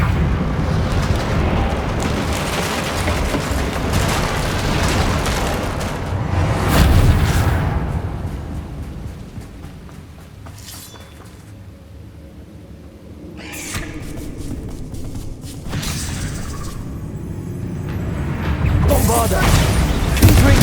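Bombarda and Confringo spells going off in Hogwarts Legacy as loud, booming magical explosions with rumbling tails. Several large blasts swell and fade across the stretch, and a voice keeps talking over them.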